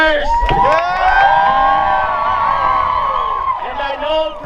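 A large, diverse crowd at an immigrant-support rally at the Colorado State Capitol cheers and whoops loudly, a sustained roar of many voices with high shouts rising above it.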